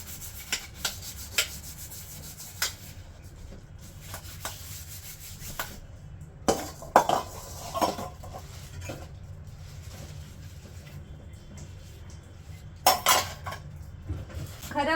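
Pots and a blackened iron wok being scrubbed and rinsed by hand in a small room, with intermittent clinks and clatters of metal cookware over a steady low rubbing and running-water background, no talking.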